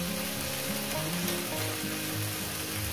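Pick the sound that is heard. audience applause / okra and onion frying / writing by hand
okra and onion frying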